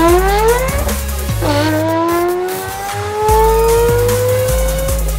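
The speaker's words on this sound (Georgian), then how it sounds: "მართალია, RX-7 ისეთი მონაცემებით ვერ დაიტრაბახებს, როგორითაც ამ ვიდეოს გმირები, მაგრამ განსხვავებული, სასიამოვნო და უანალოგო ხმა ნამდვილად აქვს" A Mazda RX-7 rotary engine roars loud and close, its pitch climbing in repeated sweeps and dropping sharply at each gear change, with no voices.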